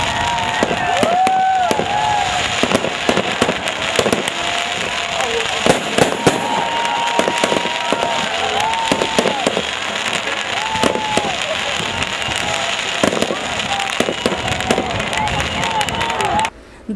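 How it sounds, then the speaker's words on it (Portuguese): A New Year's Eve fireworks display in São Tomé das Letras crackles and bangs nonstop, with whistling rockets rising repeatedly and a distant crowd murmuring underneath. "A queima de fogos durou quase 20 minutos e agradou moradores e"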